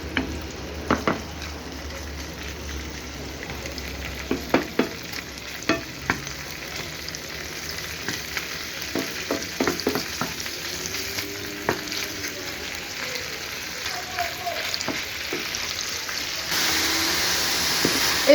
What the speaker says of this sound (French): là les merguez ils commencent à cuire presque